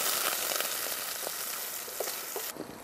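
Coarsely chopped onions sweating in butter in a pot, a continuous close sizzle with light stirring scrapes, ending abruptly.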